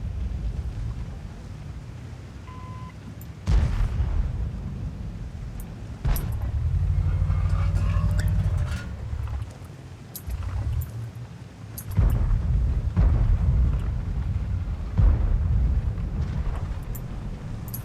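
Tank gunfire and heavy blasts in World of Tanks, with a VK.100.01p in the fight: sharp booming shots recur every few seconds over a low rumbling engine drone, a few hitting loud and close.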